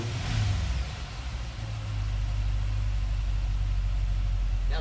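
A 2014 HSV Clubsport Tourer R8 V8 with its bimodal exhaust valves open idles close by with a deep, throaty rumble, after a brief blip of revs at the start.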